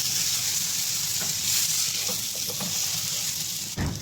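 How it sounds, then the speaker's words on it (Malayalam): Fried tuna fish being stirred into sizzling masala in a hot pan, a steady close frying hiss with soft scraping stir strokes, ending in a brief louder clatter. "മസാലയും ഫ്രൈഡ് ഫിഷൊക്കെ നന്നായിട്ട് മിക്സ് ചെയ്തിട്ടുണ്ട്"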